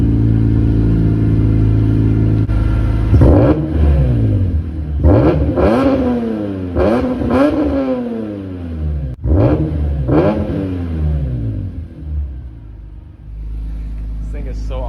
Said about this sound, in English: I'm gonna give you guys some revs.